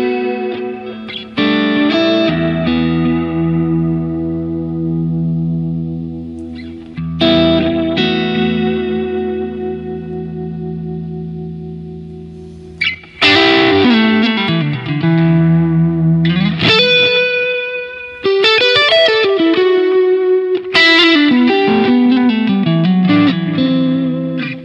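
Electric guitar played through a Memory Man delay pedal into an Orange OR80 amp model, chords and single notes ringing out with repeating echoes trailing behind, loud and close, with a few pauses between phrases.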